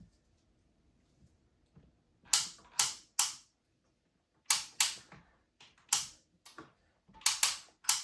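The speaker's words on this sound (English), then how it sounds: "It has a tilting head adjustment, like so." Plastic tilting head of a Holmes manual stand fan being adjusted, giving a series of sharp, close ratcheting clicks in small clusters after a quiet start.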